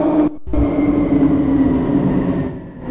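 A steady train rumble in the Roblox video game, with a sustained low hum, loud and continuous, briefly interrupted by a cut near the start, fading slightly at the end.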